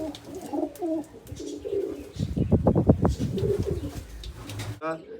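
Pigeons coo in a rapid throaty burst at close range, with a voice talking before and after.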